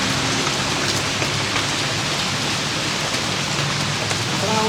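Steady rain pours down in a dense, even hiss that fills the whole stretch without a break, with no voices over it.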